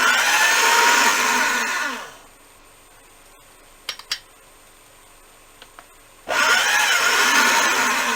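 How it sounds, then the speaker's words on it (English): Dark blue Sculpey III polymer clay fed through a pasta machine, giving a loud, steady whirring grind that runs for about two seconds, drops to near silence with a few faint clicks, then resumes just as loudly at the end. "I'm going to run this through my pasta machine really quick"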